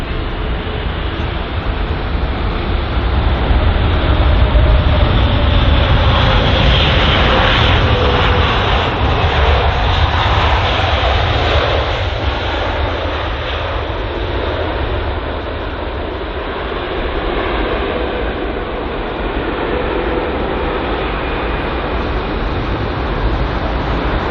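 An Etihad Airways Boeing 787-10 Dreamliner in gold livery, registration A6-BMG, arriving at London Heathrow from Abu Dhabi: a loud, steady jet engine roar that holds for the whole stretch, swelling slightly midway and easing toward the end.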